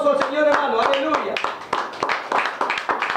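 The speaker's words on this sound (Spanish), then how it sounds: "Denle un fuerte aplauso al Señor, hermano." Church congregation applauding, a lively rhythmic clapping of many hands mixed with loud, continuous voices calling out and singing over it.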